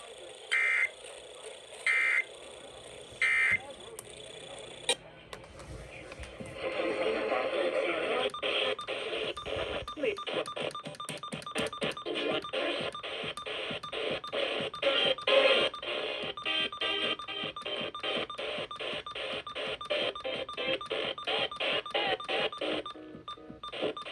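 A Pacific IPAWS weekly EAS test starts with three short, loud alert tone bursts, then a longer stretch of dense data-like buzzing and tone patterns under a synthesized announcement voice.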